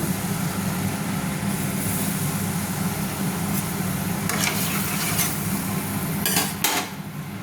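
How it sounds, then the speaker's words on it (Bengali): Turmeric dropped into hot oil in a pan while cooking a rohu fish curry, giving a steady close sizzle and hiss with a few brief scraping or stirring clicks near the end; nobody talks. "তো আমার তেলটা গরম হয়ে গেছে, তো আমি হলুদ দিয়ে দিলাম প্রয়োজন মতো"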